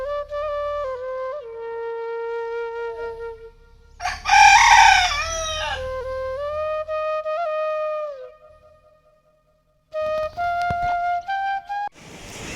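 A village rooster crows repeatedly, loud and close, with long drawn-out calls separated by short pauses and a brief burst of clucking from chickens, no talking.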